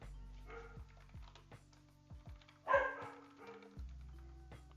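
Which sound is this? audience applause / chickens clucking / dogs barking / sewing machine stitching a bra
dogs barking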